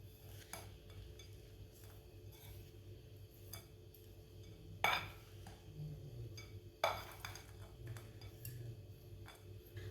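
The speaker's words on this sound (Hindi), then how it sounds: "सब चीज़ों को अच्छी तरह मिक्स कर लेंगे।" A spoon stirs a mixture of ground jaggery and other ingredients in a dish for a Punjabi winter recipe. Quiet scraping and occasional sharp clinks of utensil on the bowl come in a faint, close, irregular rhythm.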